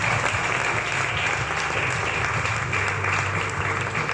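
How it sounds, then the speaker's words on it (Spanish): Church congregation applauding during a Spanish-language evening sermon, a dense, steady wash of many hands clapping at close range that holds evenly throughout without a break. "Aplaude al Rey en esta preciosa noche"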